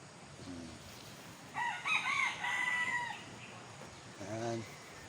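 A backyard rooster crows once in a long, clear call at moderate distance, framed by brief clucks before and after over a soft outdoor background.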